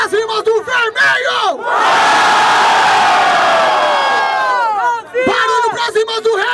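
Crowd at a Brazilian freestyle rap battle in Barueri roars and cheers for one MC, a loud sustained swell of voices, framed before and after by an emcee shouting to hype them up.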